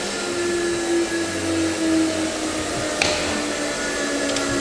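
Spindle of a US Concepts FAS-101 arch moulder winding down after switch-off, a steady mechanical hum with a sustained whine over a low rumble, plus a brief sharp click midway.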